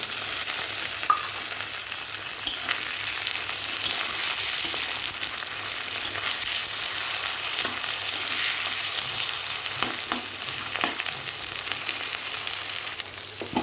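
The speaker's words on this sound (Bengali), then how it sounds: "ভাজা হয়ে গেছে, আমি টমেটোটা দিয়ে দেব।" Tomatoes fry with onion and ginger-garlic paste in a pan for chicken curry, a continuous close sizzle broken by scattered spatula scrapes and stirring clicks throughout.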